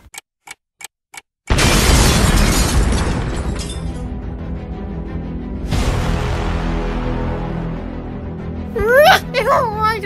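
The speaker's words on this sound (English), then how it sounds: "Bomb!" Bomb blast in a LEGO stop-motion superhero movie: a few quick ticks, then a sudden loud explosive burst with a rumbling tail, followed by a second boom and voices shouting.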